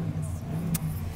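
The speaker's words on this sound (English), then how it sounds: "you can hear a truck" A low engine rumble of a passing truck, heard faintly in the background from inside a 2015 Volkswagen Golf GTI, with a brief hiss partway through.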